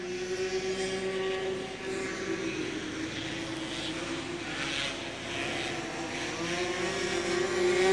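Formula 500 race cars roaring around the Carina Speedway dirt track during the A-Main, a continuous engine drone from a distance whose pitch wavers as the cars pass.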